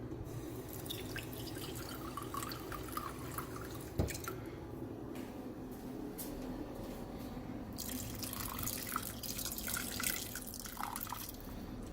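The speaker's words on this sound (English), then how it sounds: "add just a touch more water." Water trickling and splashing steadily into a pot of rice, a continuous close liquid pour with small drips throughout.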